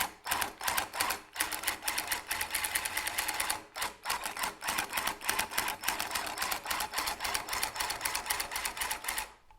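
A tufting gun, slowed with its speed regulator, stitches up close in a loud, rapid mechanical chatter, running in long continuous bursts broken by a few brief stops.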